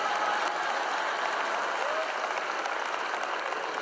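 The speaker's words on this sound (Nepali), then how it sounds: "तपाईँले मलाई ताली बजाएर सहमति जनाएको मलाई एकदमै मनपर्छ।" Broad, continuous applause from a big audience clapping in approval at a sermon, even and sustained throughout at a fairly close, full level.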